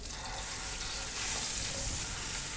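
Steady sizzling and crackling of ginger, garlic and red chili paste sautéing in hot oil for arvi masala, close and continuous, with no voices.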